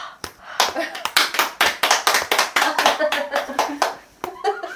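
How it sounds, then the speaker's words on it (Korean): A few people at an evening office meeting during a workcation in Gangneung clap in a short round. Crisp, close claps come in a quick, uneven patter, with brief voices mixed in near the end. "박수를."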